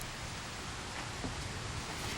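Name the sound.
rain pouring down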